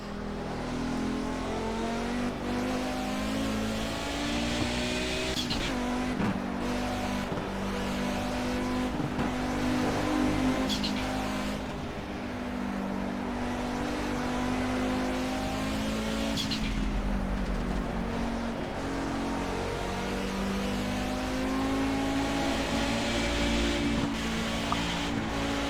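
A race car's engine in the Project Cars racing game drones continuously for over twenty seconds. Its pitch slides and shifts as the car brakes and decelerates, and the sound stays at a steady, moderate level without speech.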